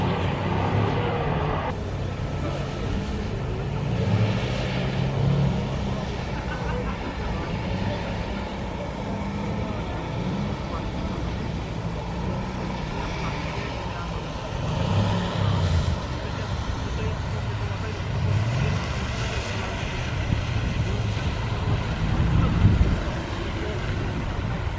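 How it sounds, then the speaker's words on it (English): Mercedes C-Class AMG driven hard on a handling course at Mercedes-Benz World, a sustained engine drone with swelling revs and tire noise, heard from a distance over wind noise for the whole stretch. "We've got another C-Class AMG out on the handling course."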